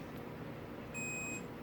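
Continuity beep from a multimeter as its probes touch across a fuse while diagnosing a KTM 450SXF dirt bike that won't start; a single steady high-pitched tone lasting about half a second over low background hum.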